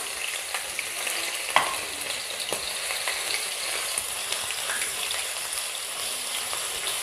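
Garlic and ginger fry in a pan in a steady, moderately loud sizzle with soft crackles and a few stirring taps throughout.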